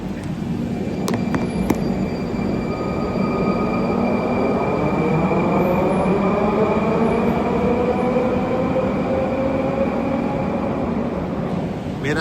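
A metro train rumbles steadily at a metro station, loud and close throughout, with a rising whine and a couple of sharp clicks near the start.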